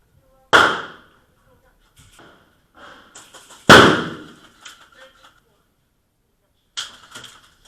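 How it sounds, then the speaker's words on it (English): Airsoft grenades going off inside an indoor kill house, with two sharp, loud bangs that each ring out in a short decay, then scattered pops and faint clatter. "Oh, fucking grenade."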